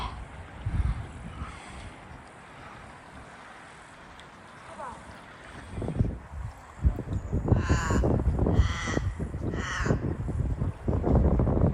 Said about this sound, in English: That's a raven making that sound.